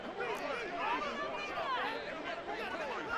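Home stadium crowd in the Madden NFL 24 football video game: a soft, continuous babble of many voices with cheering swells, fairly faint and distant.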